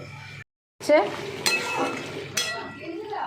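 Metal lid set down on a cooking pot of paneer butter masala simmering with water, a sharp clatter and clink followed by a second ringing knock, near and clear over light kitchen background.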